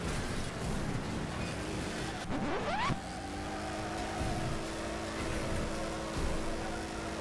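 A car engine in a bumper-car video game revs upward in a rising whine, then settles into a steady drone, moderately loud with no talking.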